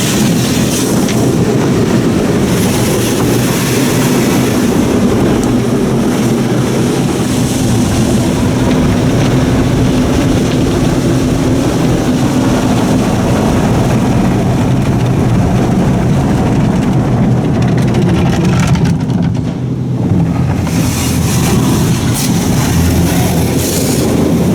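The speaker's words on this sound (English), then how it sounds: "And now we're going to start with the soft touch cycle here." An Autec In-Bay Express soft-touch car wash at Sunshine Car Wash, Cordova, Tennessee, runs its cycle with mitter curtains and no top brush, a loud, continuous mechanical rumble and rushing whoosh that holds for the whole stretch without talk.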